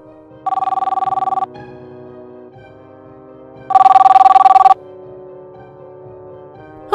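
Two bursts of an electronic telephone bell ring out, each about a second long, separated by a pause over a quiet low hum in the background.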